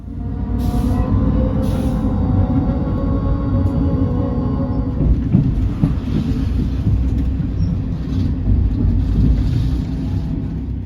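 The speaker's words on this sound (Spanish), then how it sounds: "El traqueteo del tren regional de Portugal" Loud, continuous rumble and rattle of a moving Portuguese regional train, clattering steadily throughout with a few higher squeals near the start.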